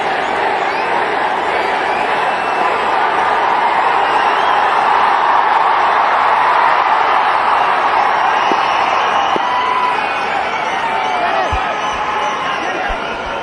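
A packed cricket stadium crowd in Chennai roars steadily for MS Dhoni walking out to bat against Australia, a loud continuous wash of cheering and whoops. A few sharp thumps come near the end.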